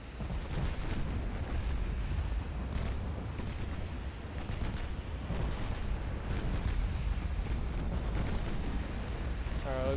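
Battleship artillery thundering in the naval strategy game Ultimate Admiral Dreadnoughts, a dense continuous roar of heavy gun blasts and explosions, loud and sustained without a break.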